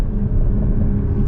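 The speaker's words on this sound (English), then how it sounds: "Okay, so let's get our full-blown acceleration here." A 2022 BMW Z4 M40i accelerating at full throttle, a loud, steady, deep engine roar heard from inside the car for a brief moment.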